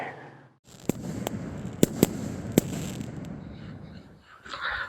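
A 200 gram Hellion firework cake goes off outdoors, firing a handful of sharp, loud bangs at uneven intervals over a crackling hiss, with a faint voice at the end.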